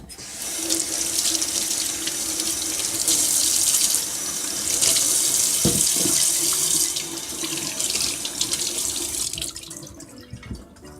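Cassava being washed under running tap water in a kitchen sink, a steady loud splashing stream for about ten seconds with brief shifts as the roots are handled, then easing off at the end.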